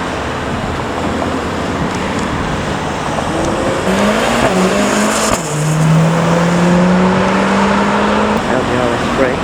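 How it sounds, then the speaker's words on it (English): An Audi RS3 roars loudly nearby, its engine revving and rising in pitch as tyres spin and squeal, with steady traffic noise and voices in the background. "Audi RS3."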